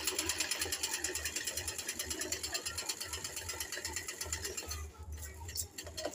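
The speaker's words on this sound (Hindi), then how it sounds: "एक बार हमने इस साइड सिलाई लगा देनी है।" Sewing machine stitching a suit seam, a close, steady rapid needle chatter running for several seconds, then briefly easing and resuming, with faint background sound.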